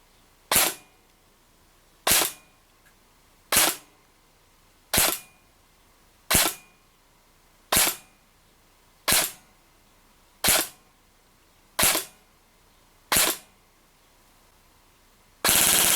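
A DYTAC B15 Helix Ultralight SBR airsoft rifle on an 11.1 V LiPo fires 0.2 g BBs in ten evenly spaced single shots, each a sharp, loud crack about 1.4 seconds apart, with no talking.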